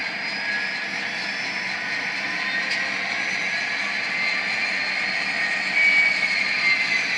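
A steady, droning diesel engine sound from a Tsunami decoder in an HO scale Kato Union Pacific SD38 model locomotive running at notch 8, a continuous high rumble that swells slightly near the end.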